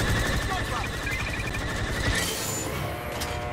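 Rapid, continuous blaster gunfire from a Star Wars Battlefront 2 battle rattles loudly throughout, layered with tonal game effects, with a sharp shift in the mix partway through.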